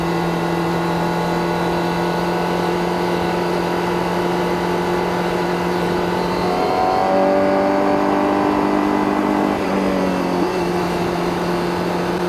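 A Honda CBR1000RR-R Fireblade SP motorcycle rides a mountain pass road in first gear, its engine holding a steady, close, loud hum that rises in pitch, dips briefly and settles again, with no one talking.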